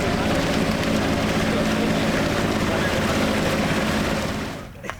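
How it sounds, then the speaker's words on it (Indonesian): Motorboat arriving at Kenawa Island near Sumbawa, a loud steady engine drone with water and wind noise that fades sharply near the end as the boat slows, a faint voice under it. "Akhirnya kapal motor kami tiba di Pulau Kenawa"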